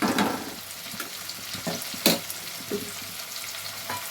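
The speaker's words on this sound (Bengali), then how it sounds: "টমেটো আর পেঁয়াজ একসাথে বেশ কিছুক্ষণ ভেজে নেব, যতক্ষণ না টমেটোটা নরম হচ্ছে" Tomato and onion frying together in a pan, a steady low sizzle broken by a handful of spoon scrapes and stirring knocks, fairly quiet and close.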